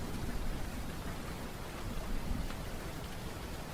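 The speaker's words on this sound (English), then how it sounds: "Extreme thunderstorms and rain pouring down." Heavy rain pours down outside a window during a thunderstorm, a steady, dense hiss of falling water with no distinct thunder claps heard.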